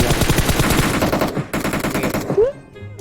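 Rapid automatic gunfire in the mobile shooter PUBG Mobile, a loud close burst of shots for over two seconds, then a sharp cut and game sound effects.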